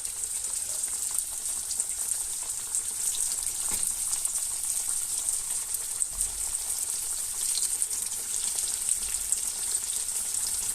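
Pişi dough fries in hot oil, a steady bright sizzle and crackle that holds even and continuous throughout, close and fairly loud, with no talking.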